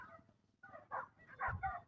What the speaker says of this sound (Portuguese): o latido parece que está aqui do meu lado